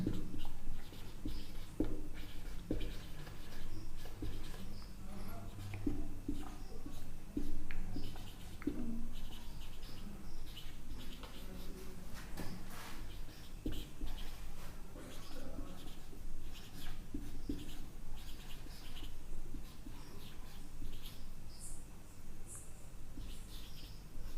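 Steady writing on a board during a physics lesson on light reflection, with soft scratchy strokes and small taps repeating irregularly over a low room hum, no speech heard.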